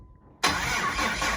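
A 2005 Cummins 6.7L diesel engine on its first fire catches abruptly after a quiet moment and settles into a loud, steady, rough running roar close by.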